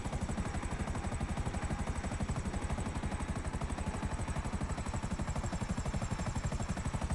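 A helicopter flying in GTA Online, its rotor giving a steady, rapid thumping pulse over a continuous engine whine, loud and unbroken throughout.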